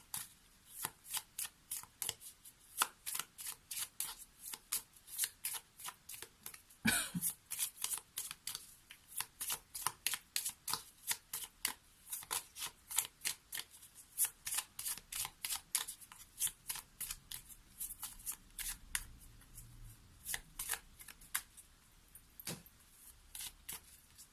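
Tarot or oracle cards being shuffled close up, a long run of quick, crisp riffling taps in an irregular rhythm, quiet and with no voices.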